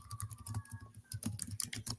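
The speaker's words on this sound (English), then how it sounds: "sorry, I'll be typing." Someone types on a computer keyboard nearby, in quick irregular clicks and key taps with brief pauses and a faint tonal hum in the background.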